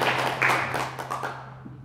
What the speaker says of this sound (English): can we have another round of applause for Stephen and Arjun